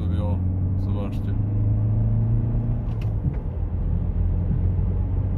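BMW F11 520d estate with a two-litre 184 hp diesel, heard from inside while driving: a steady low engine and road drone runs throughout beneath someone talking.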